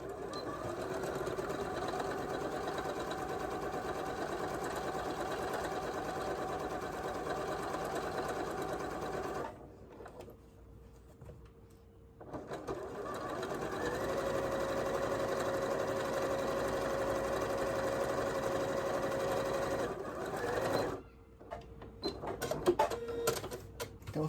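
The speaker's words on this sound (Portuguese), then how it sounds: "E vou fazer uma costura aqui de um pé de máquina pra segurar" A domestic sewing machine runs steadily as it stitches a seam joining two pieces of fabric for a panettone holder, with a brief pause partway through before the motor whirs on again.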